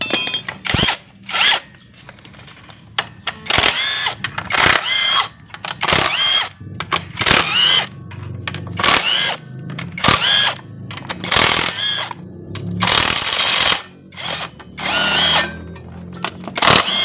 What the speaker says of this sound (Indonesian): Tak impact aja biar cepet.